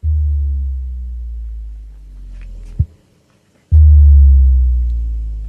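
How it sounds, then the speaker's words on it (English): Deep synthesized sub-bass tones that slide downward and fade, two booming drops separated by a brief silence, loud and alone. "I actually have two differently toned sub drops going, which one makes this sound"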